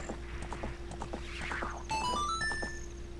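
Horse hooves clop in a steady, quick rhythm in The Legend of Zelda: Ocarina of Time (randomizer), with bright chiming game music and rising tones over a constant background hum.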